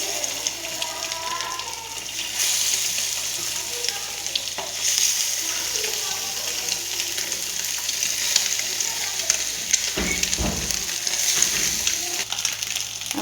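Eggs frying in a little oil in a pan give a continuous close sizzle, with a few louder spatters and scrapes partway through and no talk.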